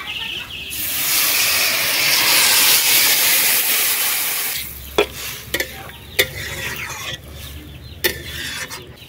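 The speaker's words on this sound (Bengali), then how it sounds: "এবার জল দিয়ে দিই।" Water poured into a hot pan of village-style dry fish curry sets off a loud, roaring hiss of steam that fades after about four seconds, followed by a quieter simmer with several sharp knocks of a utensil.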